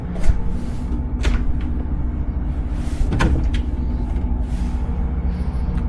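A closet door in a hotel room swings open, with a few soft knocks and a rattle over a steady background hum.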